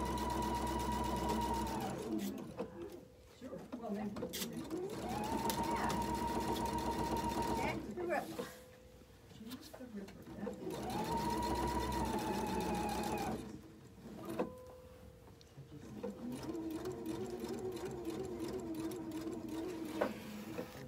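A sewing machine stitches fabric for a car trash bag in bursts of steady whirring, pausing between runs, with people talking in between.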